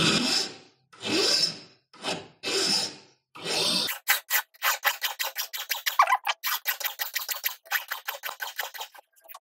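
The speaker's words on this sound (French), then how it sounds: "Donc ça donne presque un effet martelé, mais le limage étant bien plat" A hand file works the sides of a faceted half-round ring. Several slow, long rasping strokes are followed by a quicker run of short, crisp scraping strokes, all close and fairly quiet, with silent gaps between strokes.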